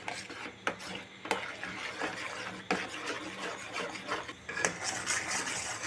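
Milk for kulfi bubbles in a pot while a spoon stirs it, producing repeated scraping strokes and sharp clinks against the metal over a soft bubbling background, close by and moderately quiet, with no speech.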